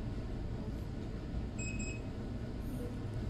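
A ZKTeco card reader in a hotel management setup gives one short electronic beep after a card tap, sounding alone over a steady background hum.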